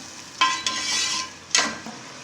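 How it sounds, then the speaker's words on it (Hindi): Ginger garlic paste being stirred into ground tomatoes in a pan while making chana biryani, a soft steady sizzle broken by a few sharp scraping clinks of the spoon against the pot. "1 टेबल स्पून अदरक लहसुन का पेस्ट जाएगा, इसको अच्छे से मिक्स करेंगे"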